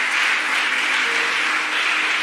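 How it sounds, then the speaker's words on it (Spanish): A church congregation applauds loudly and continuously, a dense wash of many hands clapping that fills the space without pause, with no voices standing out. "Dale fuerte ese aplauso con todo tu corazón."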